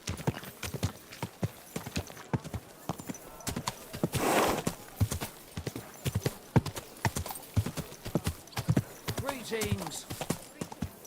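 Horse hooves clip-clop steadily at a walking rhythm in Kingdom Come Deliverance II, close and distinct, with a brief whinny near the end and a short stretch of talking partway through.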